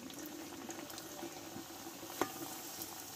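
Potato and flour snacks frying in hot oil, a quiet continuous sizzle with a light bubbling hiss and a single small pop partway through.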